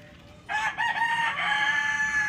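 Desi hens in a cage sound off close by, a loud drawn-out crowing call with clucking tones, rising suddenly and holding for a couple of seconds.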